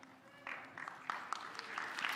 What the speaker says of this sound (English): You guys don't have to clap after everyone.